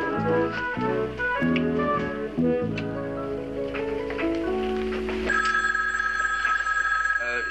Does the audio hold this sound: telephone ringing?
yes